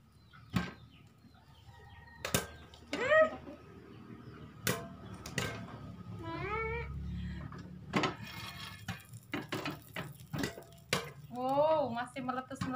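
Popcorn kernels popping in a pan while cooking in a home kitchen, scattered sharp pops and clatter with metal scraping and stirring, under faint background talk.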